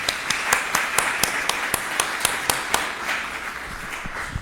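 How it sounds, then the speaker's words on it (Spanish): An audience at an international animal law congress opening applauds, a steady patter of crowd clapping with one or two nearby hands striking loud, evenly spaced rhythmic claps throughout. "Un aplauso primero para..."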